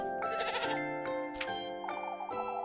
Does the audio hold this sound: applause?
no